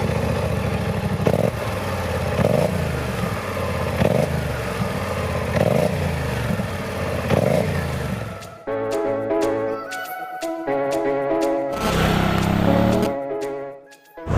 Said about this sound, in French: le nouveau silencieux sonne mieux. Plus grave, plus rond